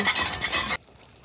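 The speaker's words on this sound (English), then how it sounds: "Just remember to keep stirring it." Whisk stirring pudding in a pot on the stove, a quick scraping and swishing burst of strokes that cuts off abruptly into near silence.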